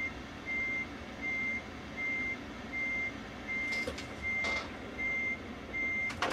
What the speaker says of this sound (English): I should turn the truck around and actually back into the spot like that.